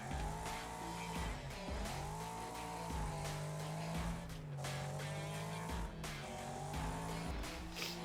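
Race car in the video game Wreckfest, its engine revving loud and continuous with rising and falling pitch through gear changes, while tires squeal and skid in long sustained streaks, with no talking.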